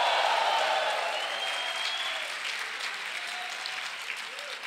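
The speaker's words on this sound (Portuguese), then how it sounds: "Só quem recebe dê um aplauso e um grito de júbilo ao Senhor" Church congregation applauding and cheering in praise, a broad, steady roar of clapping and voices that slowly tapers off, with a few faint whistle-like cries rising above it.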